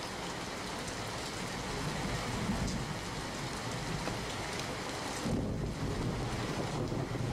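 Heavy monsoon rain pours down in Navsari district, Gujarat, in a dense, unbroken roar with gusts of wind buffeting the microphone throughout.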